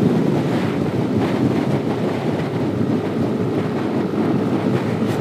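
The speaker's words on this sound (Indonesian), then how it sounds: "Saya jalan di 80 loh, tapi anginnya nggak karu-karuan ini anginnya." Strong wind roars steadily and loudly against the microphone of a motorbike riding at about 80 on an open road past wide rice fields, a constant rushing blast with no break.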